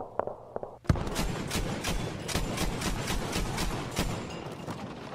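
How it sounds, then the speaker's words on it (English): Autocannon fire in a West Wall, autumn 1944 wargame scene, a sharp opening report followed by a rapid run of heavy, evenly spaced thumping shots, loud and close, with a faint rumble before the burst. "The unmistakable thump of an autocannon sound."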